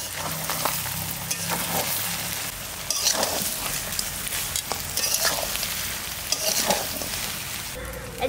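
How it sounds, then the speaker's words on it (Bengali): Duck meat curry is stirred in a pan once the lid is lifted: a loud, close sizzle with repeated scraping and clattering spatula strokes that come in uneven bursts. "এইবার ঢাকনাটা খুলে একটু নাড়া দিয়ে দেবো"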